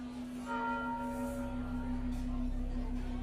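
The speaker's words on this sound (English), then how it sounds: "the tolling started. I couldn't shut the bell off if I tried." A church bell tolls steadily with a sustained ringing tone that hangs over a low background rumble, heard alone and fairly close.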